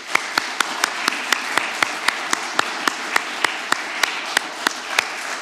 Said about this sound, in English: So give you a big round of applause.